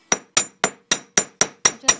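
A flat-faced hammer taps jewelry wire to flatten it for earrings: eight sharp, evenly spaced metallic strikes in about two seconds, close and crisp with no speech.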